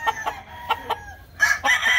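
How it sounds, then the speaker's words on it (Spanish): A rooster crows outdoors, a fairly close, loud cock-a-doodle-doo preceded by short clucking bursts, with no talk over it. "No sé si este es cruzado o limpio, pero teniendo la línea, muy bonito gallo."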